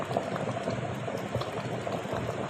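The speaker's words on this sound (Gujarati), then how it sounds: "હજી તો આ બટેટા બફાય જ છે" Potatoes boil in a pot of water, probably over an open flame outdoors without a gas stove, giving a steady, close bubbling and hissing that runs evenly throughout with no voices.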